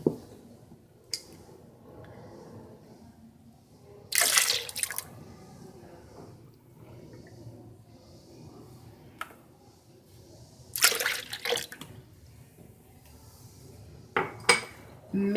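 Eggs and milk are poured and dropped into a blender jar for chicken pie batter, with scattered clinks, soft splashes and drips against quiet kitchen background.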